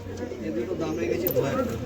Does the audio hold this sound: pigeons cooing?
yes